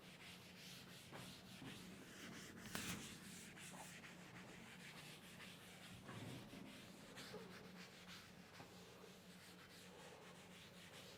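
A blackboard is wiped clean in a lecture classroom, with faint, continuous rubbing strokes that swish back and forth for several seconds, heard from a distance and with no talking.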